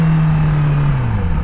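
A motorcycle engine running steadily at close range while the rider works down through the gears from fourth to first, its low hum sliding gradually lower in pitch as revs fall.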